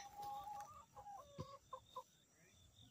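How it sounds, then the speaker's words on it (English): A hen being petted clucks in a few short, fairly close calls amid faint background noise. "And we got a chicken."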